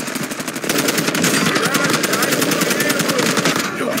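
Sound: gunfire in a video game

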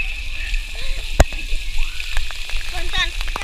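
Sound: water park fountain splashing

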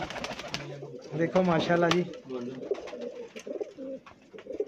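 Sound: pigeon cooing

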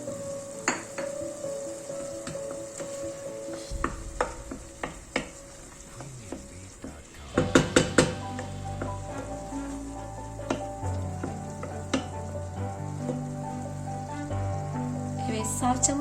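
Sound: tomato paste sautéing in a pot for bulgur pilaf

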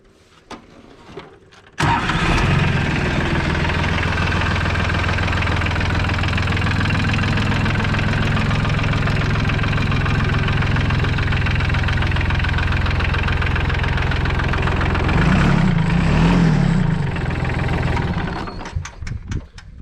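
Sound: mini tractor engine running

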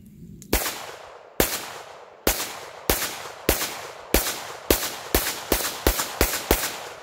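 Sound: handgun firing through a magazine

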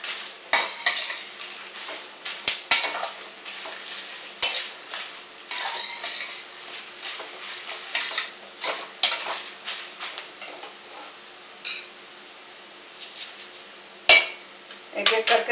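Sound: whole spices, poppy seeds, fenugreek, mustard stirred in pan

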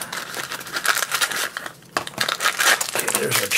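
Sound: scissors cutting open a plastic blind pack bag

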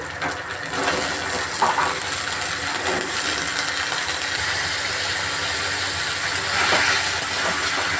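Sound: potatoes added to hot pan, frying

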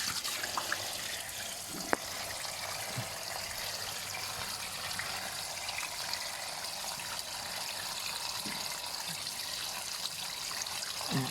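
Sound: water draining out of a water tank, weakening flow

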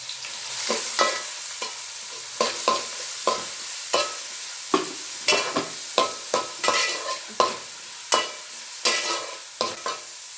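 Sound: onions frying in oil

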